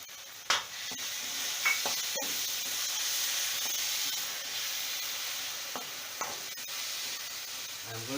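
Tomato puree fries in oil for pav bhaji, giving a continuous soft sizzle with occasional scraping stirs and a few sharper knocks against the pan, close by and without talk.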